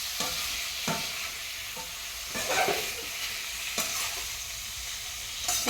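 Food fries in a pan with a constant, moderate sizzle, broken by occasional clinks and scrapes of stirring, and no voices.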